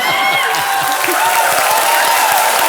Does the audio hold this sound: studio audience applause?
yes